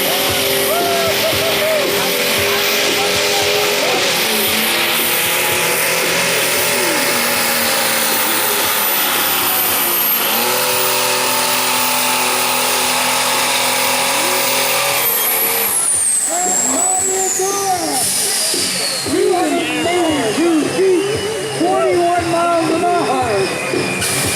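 Stock semi trucks roar loudly at a night Thunder in the Parkland truck event, a dense continuous engine drone with rising whines and air brake hiss, an announcer's voice over a loudspeaker running throughout.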